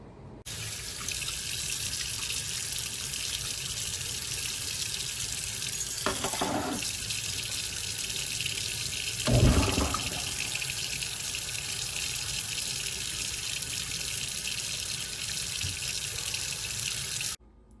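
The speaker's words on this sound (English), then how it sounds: "I'm going to put them in a sieve and rinse them under the tap" Cucumber seeds rinsed in a sieve under a running kitchen tap: a steady close hiss of flowing water with a couple of brief splashy surges midway.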